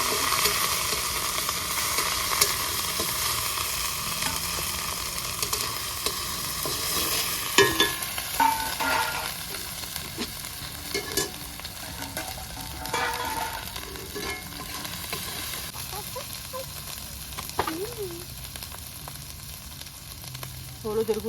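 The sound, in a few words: frying ginger, garlic and chili paste for pork curry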